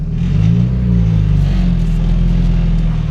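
Turbo Honda Civic EG engine idling while warming up, a loud steady low rumble close by with a slight rise and settle in revs, no voices.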